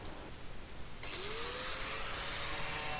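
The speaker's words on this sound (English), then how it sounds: "I'll use the compressed air or sometimes even a vacuum cleaner to get in behind" A vacuum cleaner clears rust flakes from inside a Toyota HiAce camper van. It starts up partway through with a rising whine and then runs steadily, loud and close.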